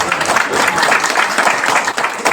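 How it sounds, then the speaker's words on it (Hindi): An audience at a Himalaya Kranti Party meeting in Uttarakhand applauds, producing dense, steady clapping that stays loud and continuous from start to end. "एक बार जोरदार तालियां हो जाए"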